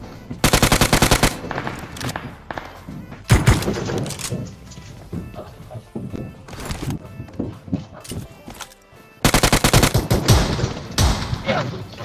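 Rapid bursts of automatic gunfire in a battle royale video game crack out near and loud, with a long burst at the start, single heavy shots in the middle and another long burst near the end, amid game sounds.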